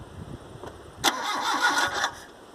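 A 1994 Mitsubishi Triton engine cranks over and catches, a sudden loud burst of starting noise that settles into a rough, uneven idle, heard up close with no talk.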